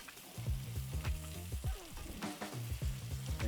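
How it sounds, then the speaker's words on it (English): Ramen noodles sizzle in a hot skillet with a stir-fry of beef and broccoli, a close, busy crackle with scraping and tossing sounds and no voices. "And now I'm gonna put our noodles right in here."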